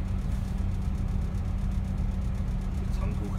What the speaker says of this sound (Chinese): 这种车子坐了，你听着引擎声音都很舒服